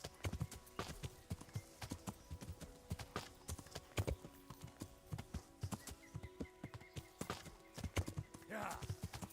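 Horse hooves clip-clop in a steady rhythmic gait in the video game Kingdom Come, the hoofbeats close and clear with a brief whinny, while someone talks over them.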